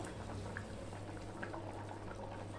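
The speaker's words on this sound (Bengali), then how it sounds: "দেখো ঝোলটা ফুটে উঠেছে।" Bhetki fish curry gravy simmers at a quiet boil in a pot, giving soft, steady bubbling with a few small pops and a low hum underneath.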